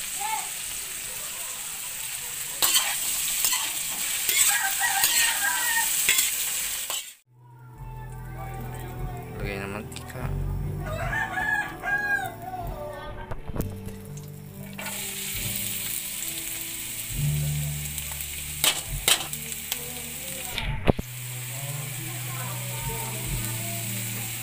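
Ingredients fry in a pan until crispy, giving a steady close sizzle broken by a brief pause, with ratcheting mechanical clicks and music-like tones layered in; no clear talking.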